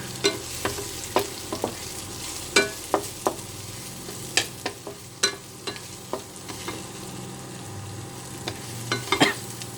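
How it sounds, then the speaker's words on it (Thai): Chili being stir-fried in a pan for stir-fried fern with oyster sauce, a steady sizzle punctuated by repeated sharp scraping and tapping of a spatula at an irregular rhythm. "ผัดให้พริกหอมนะคะ"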